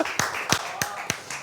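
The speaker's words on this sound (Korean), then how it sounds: "예, 박수." Scattered clapping at a Korean church youth worship service, a few separate sharp claps with gaps between them, fairly close and not very loud, after a correct quiz answer.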